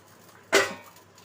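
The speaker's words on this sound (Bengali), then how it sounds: "আমি এখন ঢাকাটা খুলছি মাছগুলো সব দিয়ে দেবো" Metal pot lid lifted off a simmering pot of fish curry with fennel paste: a single short clink and scrape, close and brief, followed by a soft fading ring.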